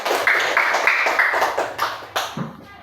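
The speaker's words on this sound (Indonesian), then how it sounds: "Oke, tepuk tangan dulu" A fifth-grade class claps together in a classroom with a sharp, rhythmic patterned clap. The claps land in quick bursts that speed up and end in a few separate loud strikes.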